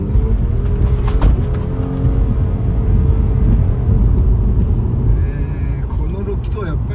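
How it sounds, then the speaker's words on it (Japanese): Subaru Outback six-cylinder engine pulling while driving, a steady, loud low rumble with road noise from inside the cabin, and someone talking over it. "この6気筒やっぱりね、低速トルクすごいですよね。"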